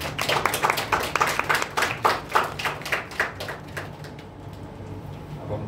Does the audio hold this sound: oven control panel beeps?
no